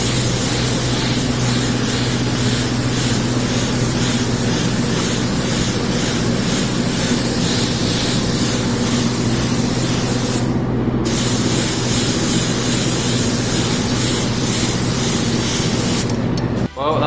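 Primer is sprayed from a can onto scooter parts in a continuous, close, hissing spray that runs almost the whole time, with two brief pauses.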